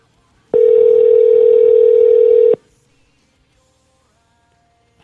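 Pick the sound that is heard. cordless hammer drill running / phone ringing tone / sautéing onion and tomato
phone ringing tone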